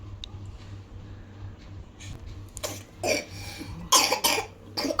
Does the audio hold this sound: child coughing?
yes